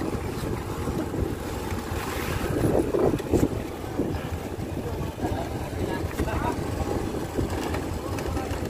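Rough sea waves slosh and churn around a boat at night near a floating fishing platform, with steady wind and engine rumble throughout and someone talking over the noise.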